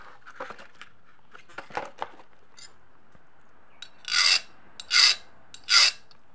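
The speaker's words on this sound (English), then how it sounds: "It's still skating over fairly well, which means this steel must be pretty close to the hardness of this file." A Vallorbe file skates across hardened steel, giving a few faint scratchy strokes at first, then three loud, bright rasping passes in a slow, even rhythm, close and alone.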